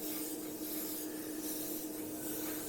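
A steady, continuous hiss of spray paint from a fan-cap nozzle onto a 1/35 scale model Spitfire, constant and fairly close, with no pauses or voices.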